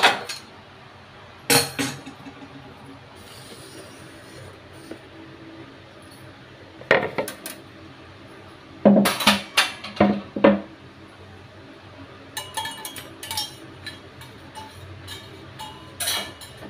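Metal dish racks are lifted out in a home kitchen, giving scattered bursts of sharp clinks and rattles separated by quieter pauses, close and fairly loud.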